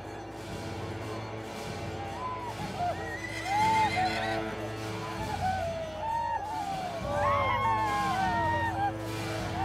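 Racing horses gather near a sacred mountain before a race and neigh repeatedly, loud and close, with shrill whinnies rising over a murmur of crowd voices and people talking.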